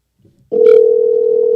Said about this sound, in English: Let's try to get Angel on the phone.